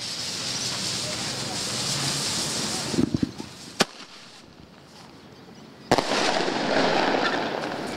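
Fireworks going off, with a broad hissing crackle, two sharp isolated bangs a few seconds apart, and a louder burst of fizzing crackle toward the end, as handled in a holiday-season safety setting.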